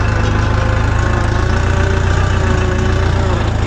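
A Chinese mini tractor engine runs steadily at close range, a loud, continuous low chugging with a rough, knocking rhythm and no pauses.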